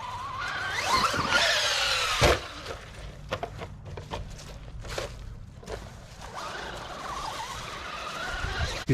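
A Traxxas Rustler RC car whines about, with a sharp skid and scrape near the start, then bursts of motor and tyres on rough ground, fairly close.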